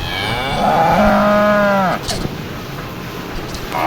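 A cow at a cattle farm lets out one long, loud, close moo, followed by quieter farmyard background sound.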